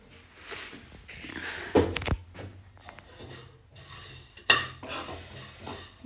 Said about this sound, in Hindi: मैं इनकी थोड़े से जवा बना रही हूँ, अगर खाएंगे तो। भून रही हूँ अभी मैं इन्हें।